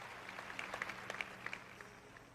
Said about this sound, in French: Vous applaudissez faiblement